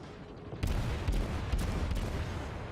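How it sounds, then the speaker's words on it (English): Battleship gunfire in World of Warships, a booming salvo of distant heavy cannon shots rolling into a sustained low rumble, with several sharper reports inside the dense din. "And there goes some shots from that battleship."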